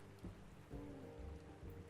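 Steady rain and storm noise in the horror video game Jill O'Lantern: Final Cut 3, a soft, continuous wash of falling rain with faint low rumbles, distant and quiet, with no voices.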